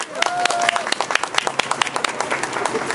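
Lively clapping and cheering from a crowd at a press conference by middle and high school students in front of a park in Daegu, greeting a student speaker. A brief shout is heard near the start, then dense, close applause continues throughout.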